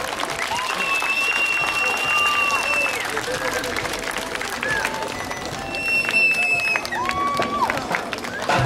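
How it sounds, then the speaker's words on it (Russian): An outdoor crowd at a knights' tournament claps and cheers steadily, a dense wash of applause lasting throughout with a few whistles cutting through the noise. "Аплодисменты!"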